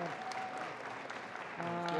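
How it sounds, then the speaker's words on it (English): Steady audience applause fills a Planned Parenthood Empire State Acts event hall as Lieutenant Governor Antonio Delgado is honored, dense continuous clapping with a voice speaking over it near the end. "Antonio Delgado, let's give him a round of applause."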